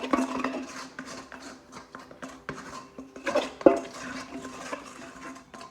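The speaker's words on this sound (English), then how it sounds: "With one of these bread scrapers, okay? So you scrape out your bowl, like so" Bread scraper dragging soft bread-roll dough out of a mixing bowl, a run of irregular close scrapes and light knocks against the bowl, moderately loud with brief pauses.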